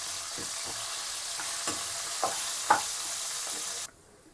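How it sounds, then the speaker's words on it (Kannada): Curry leaves sautéing in a rasam tempering over a low flame give a steady soft sizzle, with a few light stirring clicks and taps before the sound cuts off near the end. "ಕರ್ಬೇವು ಕೂಡ ಹಾಕೊಂಡು ಒಂದು ನಿಮಿಷ ಹಿಂಗೆ ಮಾಗಿಸ್ಕೊಂಡ್ರಿ"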